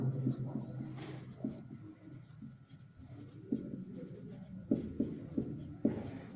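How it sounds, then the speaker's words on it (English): Marker writing on a whiteboard in a university English literature classroom: steady squeaky scratching strokes with short rhythmic taps and pauses, close and moderately loud, with no talking over it. "As I write on the whiteboard"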